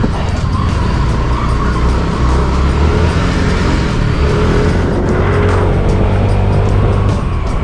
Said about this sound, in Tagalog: Ang dami sasakyan ngayon